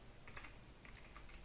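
Someone typing a name on a computer keyboard, a quick run of light key clicks, faint and close over a soft hiss, with no talking.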